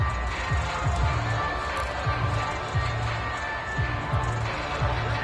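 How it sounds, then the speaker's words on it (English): Stadium crowd roar from a PS4 American football video game, a steady loud wash of home-field crowd noise running throughout with recurring low rhythmic thumps beneath it. "The crowd's not doing that O-line any favors. Home field advantage is really kicking in"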